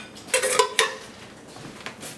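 A metal spoon clinks and scrapes against a container of homemade pizza sauce in a kitchen, a few bright knocks close by followed by softer clatter.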